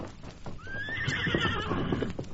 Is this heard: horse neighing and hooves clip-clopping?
yes